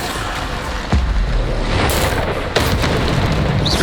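Heavy booming blasts of the Bombarda explosion spell in Hogwarts Legacy hit loud and close, two deep impacts rolling over a constant rumbling game soundscape.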